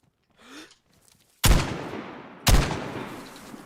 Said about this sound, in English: I shot him twice? And it did nothing?